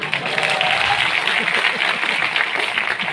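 An audience claps together in a sustained burst of applause, loud and continuous for a few seconds.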